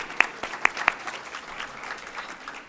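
Applause at an alumni awards brunch. A few loud, close individual claps stand out at the start, then the clapping settles into a softer scattered patter from the crowd.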